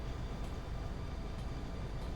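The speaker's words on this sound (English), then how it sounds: "And we have a passenger train coming along." A passenger train led by a P40 or P42 locomotive rolls past in the Train Sim Pro USA game, giving a steady, loud low rumble with faint rail clatter that continues without a break and with no voices.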